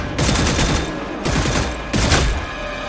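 Gunfire from a heavy-recoil weapon in the video game Redfall, three loud close bursts of rapid shots in quick succession, separated by brief gaps, with no talking.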